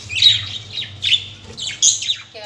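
Pet parrots give several shrill squawks and chirps in short bursts, close by and moderately loud over a low background hum.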